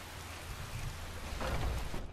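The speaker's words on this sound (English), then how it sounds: "It's still raining." Steady rain in the video game Skyrim hisses and patters for a couple of seconds, a soft even wash of drops with no voices.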